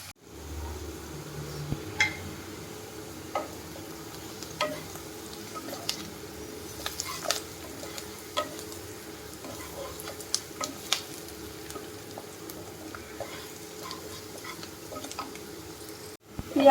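Onions frying in oil over low to medium heat until golden brown: a faint, steady low sizzle with scattered soft ticks and occasional stirring clicks, no one talking.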